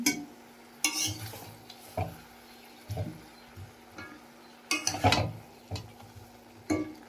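Potatoes tipped one by one into spices in a pressure cooker for a home-cooked mutton curry: intermittent clatter and stirring knocks against the metal pot over a faint sizzle, close and fairly quiet, with no talking.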